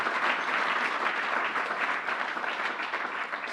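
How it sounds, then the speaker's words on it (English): Steady, even applause fills a state government Covid-19 press briefing in New York, a continuous wash of clapping from the room with no speech over it. "Let's give Eric a round of applause."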